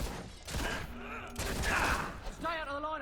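Gunfire from a battle in the video game Fable II, a sustained volley of shots at steady loudness mixed with battle sounds and voices talking throughout.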